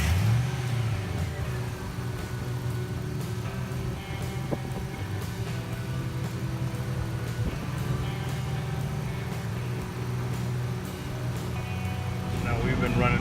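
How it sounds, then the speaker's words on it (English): A truck engine idles steadily nearby while the air conditioning system is recharged, a low constant drone with a brief rev at the start. "you'll turn on the truck and it'll run"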